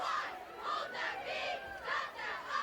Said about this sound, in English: getting a nice little ovation from the traveling Simsbury crowd